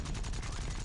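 Aircraft machine gun and cannon fire in War Thunder during a Japanese air force dogfight, a steady rapid stream of shots with no gaps, loud and close.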